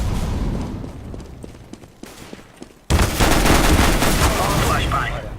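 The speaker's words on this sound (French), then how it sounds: "Flashbang." A flashbang grenade in Counter-Strike goes off as a sudden loud burst after a stretch of quieter gunfire-like pops, followed by a harsh, bright roar while players talk.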